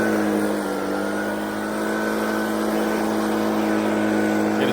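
A leaf blower cranked to high power blasts debris off a roof, giving a loud, steady engine roar that runs the whole time without letup.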